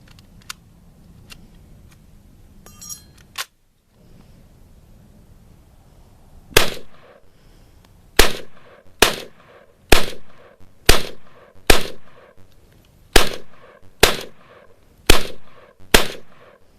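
An SKS rifle fires at an outdoor shooting range: a few faint sharp clicks and handling sounds first, then roughly a dozen loud, close gunshots in a steady, evenly spaced series.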